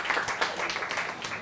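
A secondary school class applauds in a classroom, a brief, dense burst of many hands clapping at once, fairly loud and even, with no pause in the sound.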